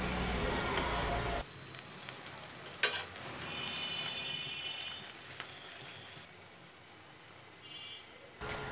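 Sliced onions frying in a pan for pilaf beresta and being stirred: a dense, close sizzle that quickly drops to a softer, quieter crackle, with scrapes and light knocks of the spoon, alongside occasional talk.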